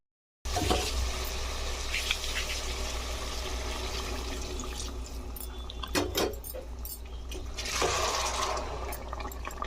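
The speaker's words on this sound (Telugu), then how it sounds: "ఇప్పుడైతే ఇందులోకి మనం వాటర్ యాడ్ చేసేసుకుందాం" Water pours into a pot of mutton curry in a close, steady rushing gush that lasts several seconds, with a brief clank and a renewed splash near the end.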